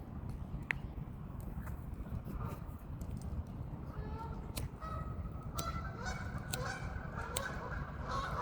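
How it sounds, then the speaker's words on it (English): Geese on a pond honk in scattered, fairly distant calls over a constant background of rustling and low noise. "I knew the geese would come eventually."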